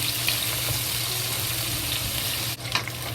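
Chopped onion, garlic and ginger sizzle gently in a hot pan, a steady crackling hiss with a brief scrape or stir near the end, close by and without talk.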